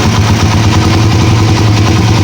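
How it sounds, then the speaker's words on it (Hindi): A Honda CG125 motorcycle engine idles steadily and loudly up close, a continuous even single-cylinder thrum with no voices over it. "अब बाइक को स्टार्ट करेंगे, उसका साउंड चेक करेंगे।"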